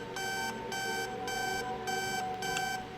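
An alarm clock rings inside the Roblox game Interliminality, a bright electronic buzzing tone pulsing in steady bursts about twice a second, loud and alone without talk.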